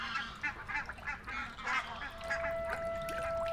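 Several geese honk repeatedly at moderate distance, overlapping calls in an irregular rhythm, with a faint steady tone joining near the end.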